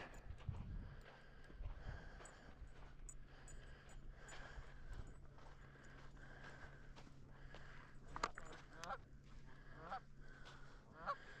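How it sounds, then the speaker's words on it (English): A group of birds on the water honks in scattered bursts, goose-like calls at a moderate distance over quiet outdoor ambience. "there's another group of birds up here in the water"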